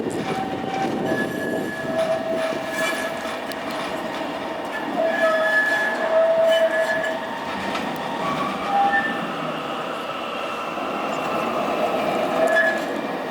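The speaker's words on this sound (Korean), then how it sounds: "오전 시운전을 마친 위례선이 다시 기지로 되돌아갑니다" A Wirye Line tram heading back to its depot after a morning test run rolls past with a continuous rumble, swelling and easing as it moves along the track, with faint squeals of wheels on rail.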